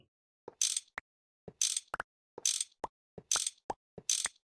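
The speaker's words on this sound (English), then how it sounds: "You have to wrench them like this" A wrench in a Minecraft GregTech modpack gives five evenly spaced ratcheting clicks, each a short mechanical tick cluster with a bright burst, crisp and close with silence between.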